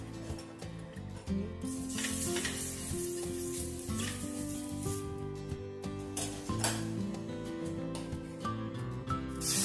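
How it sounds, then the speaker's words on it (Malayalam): Wheat dosa batter cooks on a hot pan in a homely Kerala-style kitchen, giving a steady soft sizzle and hiss that runs under prominent background music. "ഇനി അടുത്ത ദോശ നമുക്ക് ഇതുപോലെ ഒഴിച്ചു കൊടുക്കാം"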